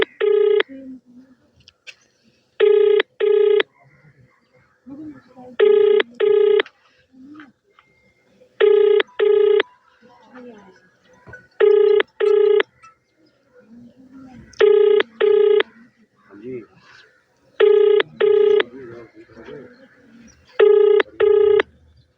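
A phone call to the mayor's number rings repeatedly with loud, clear paired electronic ring tones in a steady pattern, while faint voices and background noise sit between the rings.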